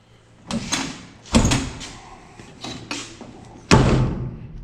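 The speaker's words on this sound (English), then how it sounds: "Door opens." A 1991 Chevy C1500 pickup door swinging open and shut, several nearby metallic thuds and clunks at close range with some creaking between them, no talking.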